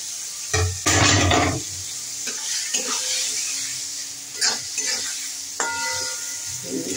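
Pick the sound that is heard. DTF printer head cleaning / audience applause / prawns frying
prawns frying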